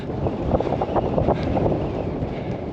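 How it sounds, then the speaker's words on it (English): Strong wind batters the microphone on an exposed Lake District fell, a loud continuous roar with gusting surges and buffeting. "it's really windy, and the grey skies are looming"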